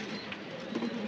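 A pair of racer pigeons sitting on eggs coos softly, with low murmuring calls running steadily through a faint, steady background.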